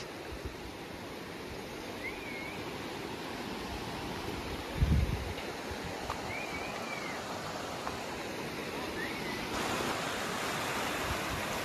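Village river water rushes under a new bridge with strong pressure, a steady broad roar that holds throughout, with a few faint bird calls above it.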